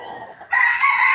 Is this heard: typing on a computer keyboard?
no